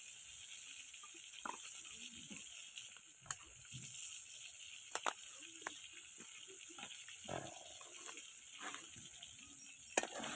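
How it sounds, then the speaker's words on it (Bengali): Fish head frying in a pan, giving a faint, steady sizzle with a few scattered clicks and scrapes of stirring, and no talking. "মাথাটা ভালো করে ভেজে নিচ্ছি, কড়া করে না ভাজলে হবে না।"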